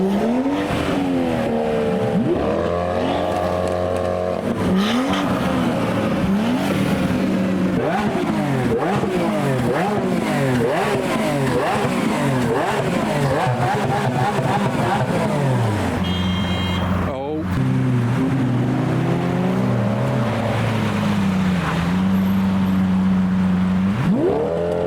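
Cars at a busy car meet, including an Aventador doing a burnout, rev loudly and repeatedly with rapid throttle blips, crackles and pops, several engines overlapping close by over constant crowd noise.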